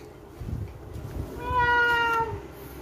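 A cat lying and sitting nearby gives a single clear, drawn-out meow, close and fairly loud, with no talking over it.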